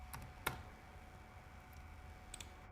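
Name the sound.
typing on computer keyboard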